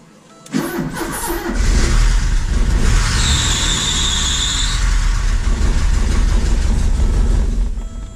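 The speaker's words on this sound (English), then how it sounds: "I'm not sure what these engines sound like stock." A car engine cranks and catches, then settles into a steady, loud idle with a deep rumble and a faint high whine, running alone without talk for about seven seconds.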